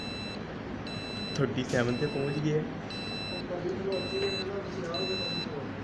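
Repeated short electronic beeps in evenly spaced bursts from an Arduino heat-sensor buzzer, sounding steadily over a noisy room while a person speaks.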